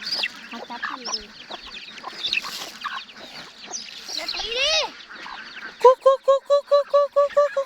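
Farm chickens cluck and chatter in a busy mix under a voice, ending in a loud run of rhythmic, evenly spaced clucks close by.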